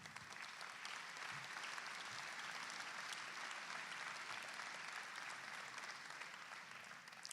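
A crowd at a political rally in Paris gives a steady, full round of applause. The clapping is dense and continuous and stays at an even level throughout.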